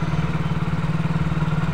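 A Hero Splendor Plus BS6 motorcycle engine idles steadily at close range, its even low thrum and light mechanical clatter holding a constant rhythm throughout with no voices.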